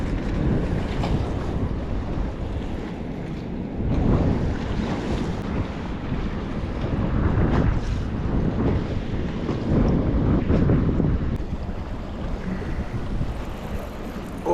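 Wind gusts and choppy waves on a river during a windy bass fishing outing make a loud, continuous rushing roar with surging swells, close to the microphone and with no talk.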